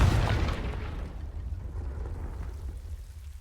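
Confringo fire spell exploding in the Hogwarts Legacy video game, a single heavy deep boom at the start that rolls off into a long rumbling, crackling decay.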